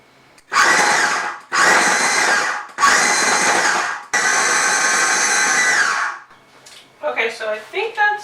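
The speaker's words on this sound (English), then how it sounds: "And then we're just going to pulse it until we have coarse crumbs." A food processor pulses rosemary shortbread dough with maple syrup in four loud, close motor bursts of about a second each, the last one longer, followed by a brief voice.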